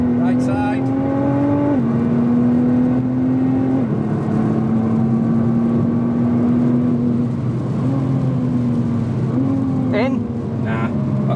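A 2017 Nissan GT-R accelerates at full throttle around Spa Francorchamps in the rain. Its loud, steady engine drone climbs in pitch, drops briefly at each of several gear changes, then climbs again.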